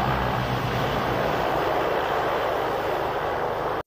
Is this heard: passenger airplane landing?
yes